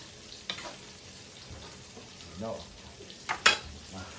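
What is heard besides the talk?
stirring cabbage in a pan while cooking pakbet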